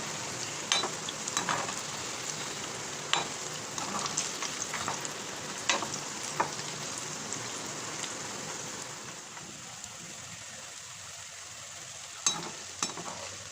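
Nimki, a flaky fried snack, frying in hot oil and being stirred, a steady loud sizzle with scattered sharp clinks of a utensil against the pan, softening slightly near the end before a few more scrapes.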